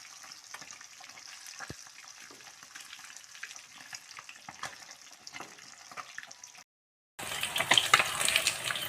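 Puthi fish frying in a pan, a continuous close sizzle and crackle with small pops, briefly cutting out near the end before returning louder and denser.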